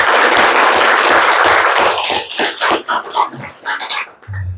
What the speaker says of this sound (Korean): 우리 찬양대를 위해서 우리 박수 한번 하시죠.